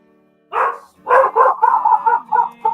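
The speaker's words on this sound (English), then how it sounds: "Oh, even the dog's going crazy." A dog barks nearby in a quick run of loud, clipped barks, about seven in under two seconds, after a brief quiet start.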